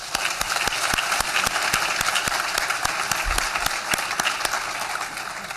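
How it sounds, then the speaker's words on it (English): A reunion audience breaks into sustained applause for an honor guard, thick continuous clapping with sharper claps standing out, steady and loud throughout. "Can we get a round of applause?"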